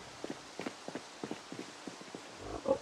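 Pigs run in the Project Zomboid video game, their quick pattering hoof footfalls coming in a steady, fairly faint rhythm.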